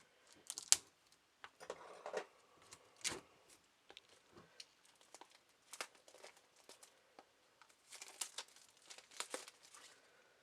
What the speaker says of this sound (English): let's go ahead and let's open it up. So it's not reflecting off the camera. It's all this shining, shrink wrap type of stuff.